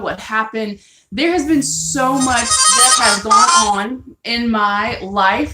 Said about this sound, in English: and that was my phone.